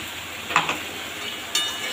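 Masala paste going into a pan for a hilsa fish curry with potatoes, a short sizzle with a couple of stirring scrapes over a steady hiss, close and brief.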